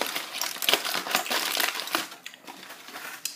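Aluminium foil wrapped around a cooked, seasoned chicken breast crinkles and crunches close up in irregular bursts, loudest early on and thinning toward the end, with no talking.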